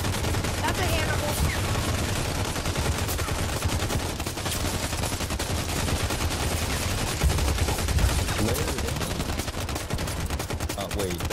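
Dense, rapid video-game gunfire in sustained automatic bursts rattles loud and close throughout, with a player talking over it.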